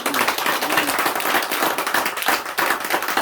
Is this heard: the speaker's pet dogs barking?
no